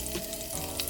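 Fresh plantain slices frying in hot oil in a pan give a soft, steady sizzle with faint crackles, quiet and brief with no talking.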